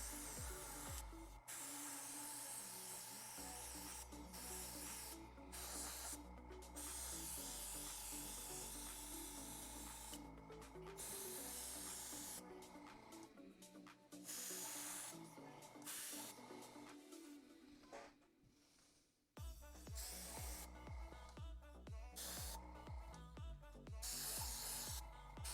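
An airbrush hisses steadily, laying a solid dark coat of paint on a resin 3D printed Chewbacca can coozie, in long close sprays broken by short pauses and occasional clicks.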